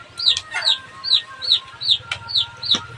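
Repeated chicken clucks in a regular series, about seven sharp calls close by over a low background hum, no speech.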